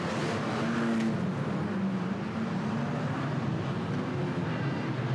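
Banger racing cars roar around a motorsport track, a continuous loud engine drone with shifting pitch and no clear impacts standing out.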